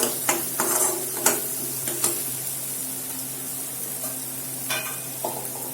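Masala and salt fry in hot oil for a bottle gourd and potato sabji, giving a steady low sizzle. Sharp spatula scrapes and clicks against the pan come at irregular intervals, with no talking.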